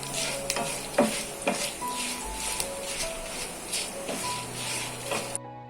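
Fenugreek seeds and dried red chillies dry-roasting in a pan, stirred with soft scraping strokes and a faint steady sizzle, close and fairly quiet with no voices.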